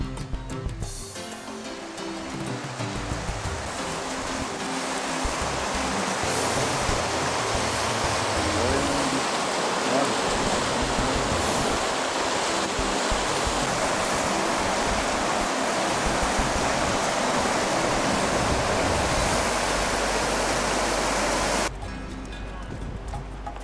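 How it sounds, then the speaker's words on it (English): The Firehole River in Yellowstone flowing near the Midway Geyser Basin, a dense, steady rush of water that holds at an even loudness for around twenty seconds before it drops away. "And this is the Firehole River again."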